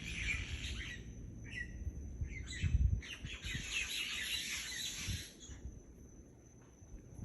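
Myna birds call and chatter from trees at dusk on Maui as they settle for the night: a steady, fairly close chorus of chirps and squawks with no talk.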